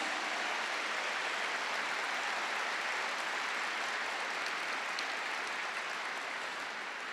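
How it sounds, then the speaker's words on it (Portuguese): Applause from the audience at a national family symposium, a soft continuous wash of many clapping hands heard from some distance, even and unbroken with no single claps standing out. "Essas palmas são para vocês"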